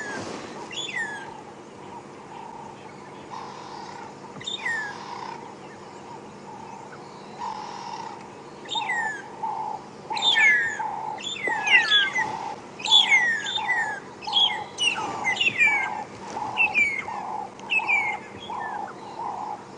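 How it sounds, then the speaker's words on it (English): A magpie shrike, also called the long-tailed shrike, calls from treetops at Djuma Game Reserve during a morning safari drive, repeating clear whistled notes that grow busier and louder over a low steady background hum. "It's such a lovely call. A long-tailed or a magpie shrike."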